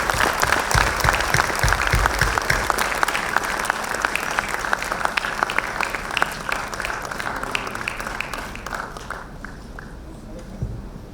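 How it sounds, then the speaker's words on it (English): Applause for jury members at an education awards ceremony, a steady, dense clapping from a large audience that thins toward the end, with a few heavier claps and footsteps standing out. "Let's have a huge round of applause for all of our jury members."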